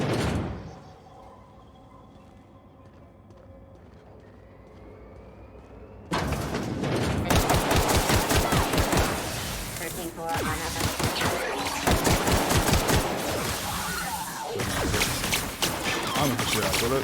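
A quiet, near-silent stretch gives way abruptly to loud, sustained video game gunfire, with rapid repeated impacts and blasts crowding together for the remaining seconds.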